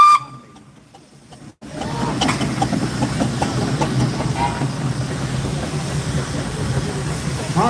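A steam traction engine running in a parade at a steam rally, loud continuous hiss and chuffing mechanical clatter starting abruptly after a quiet opening with a faint whistle tone, close by and steady.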